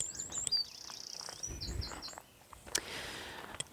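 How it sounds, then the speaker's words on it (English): A great tit sings outdoors during a nature walk, a faint run of repeated high chirping notes early on, followed by soft rustling and a few scattered clicks with light background ambience. "I think it's the great tit we have here."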